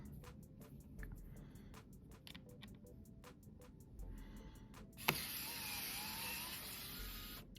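A Fanttik mini electric screwdriver spins up near the end with a steady whirring motor tone, after a stretch of quiet rhythmic ticking and a sharp click.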